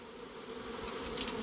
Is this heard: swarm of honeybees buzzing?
yes